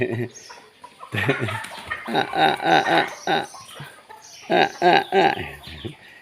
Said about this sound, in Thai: เห็นไก่ครับไก่เยอะๆเลย